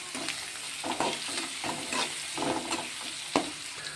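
Chicken pieces fry in boiling oil, a continuous sizzle broken by repeated scraping stirs in a steady rhythm. The sound is close and quiet, with no talking.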